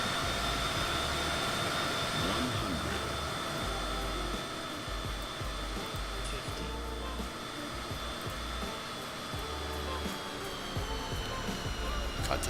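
Cessna CJ3+ business jet engines roar steadily during a landing in the Microsoft Flight Simulator 2020 game, a continuous broad whine and rumble with no breaks.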